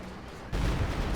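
Powerful 120mm mortar fire in Company of Heroes 2, a sudden loud, dense boom halfway through that bursts into a broad rumbling blast and carries on to the end.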